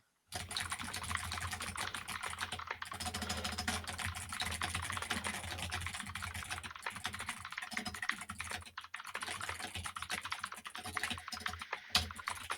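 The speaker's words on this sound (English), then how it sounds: "This is a shit keyboard to do a typing test on." Rapid, continuous clatter of keys on a computer keyboard during a typing test, close and busy throughout, with brief pauses and one sharper strike near the end and no speech.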